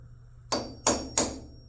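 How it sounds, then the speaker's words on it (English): Three sharp, evenly spaced metal taps of a hammer striking a center punch to mark a drill hole, each a crisp close impact with a quick decay, in a quiet room. "I'm just using the center punch to locate that"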